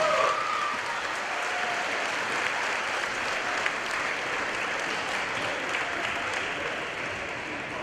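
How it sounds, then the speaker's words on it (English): Long, sustained applause for the fans in a school gym after a high school volleyball tournament win, an even wash of clapping with a brief whistle-like tone near the start and faint crowd noise underneath. "I think they deserve a round of applause"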